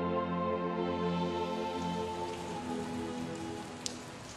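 Rain falls steadily on banana leaves in a Suzhou garden, a soft, even patter with sustained tones beneath it, fading slightly toward the end, with one brief sharp drop near the close.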